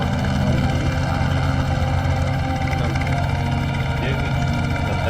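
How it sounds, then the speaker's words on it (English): A video game helicopter drones steadily with a loud, constant engine and rotor hum and no clear pause, heard close throughout over a dense low-frequency rumble. "Is that a helicopter?"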